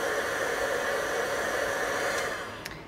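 A heat tool melts copper embossing powder on a card-making piece, producing a steady, close, dryer-like blowing whoosh that fades slightly and stops just before the end.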